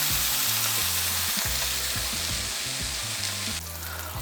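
Steady, loud sizzling of instant noodles frying in hot olive oil in a pan, a dense crackling hiss that continues throughout with no voices.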